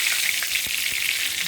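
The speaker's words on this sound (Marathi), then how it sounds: "मोहरी घालणार आहोत, जिरे, कढीपत्ता," Mustard seeds, cumin and curry leaves sizzle in hot oil, a steady bright hiss with a few soft pops, close and alone with no talk.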